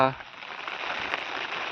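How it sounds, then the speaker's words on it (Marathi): Dense, steady hiss of heavy rain in the Konkan countryside pattering on a surface, constant and close, after a brief voice at the very start. "अचानक भयानक इलो पाऊस"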